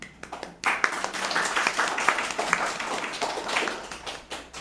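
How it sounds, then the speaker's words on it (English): An audience at an art museum talk applauds, starting with a few scattered claps before filling into a moderate round that thins toward the end, with no speech. "give yourselves a round of applause"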